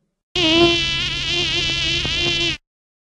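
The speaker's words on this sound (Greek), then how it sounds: "Αυτή είναι μια μέλισσα που ζουζουνίζει." Honeybee beating its wings, a single loud, close, steady drone lasting a little over two seconds, with slight wavering in pitch and no other sound.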